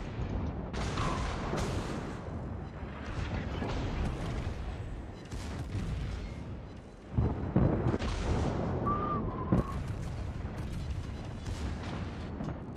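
Warship turret fire in World of Warships: dense, continuous rumbling booms and blasts under a roaring sea-battle din, with a heavier burst of salvos partway through and no clear speech.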